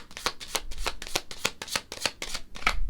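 A deck of tarot cards is shuffled by hand in quick repeated riffles, about a dozen crisp, close rasping bursts in a steady rhythm with no talking.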